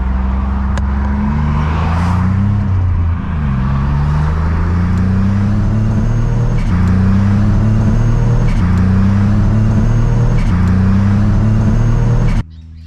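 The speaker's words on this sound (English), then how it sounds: "so it cuts and surges and carries on and basically misfires." A turbocharged Holden Commodore with a stock Ecotec engine, running without a tune and starved of fuel, drones loudly from inside the car, its note rising and dipping in repeated surges and cuts for several seconds before abruptly dropping away.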